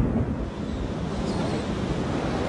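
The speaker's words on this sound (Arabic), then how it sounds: "وعندما أصبحوا في البحر، رفعت الرياح أمواج المحيط" Strong wind roars over rough ocean waves at sea, a loud, steady rumbling wash with constant buffeting and no voices.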